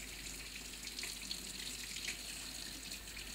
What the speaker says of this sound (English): Rinse in clear water.